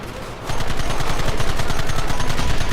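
Rapid gunfire in the video game Red Dead Redemption, a dense stream of loud close shots in steady rhythm, starting after a brief quieter lead-in and continuing without pause.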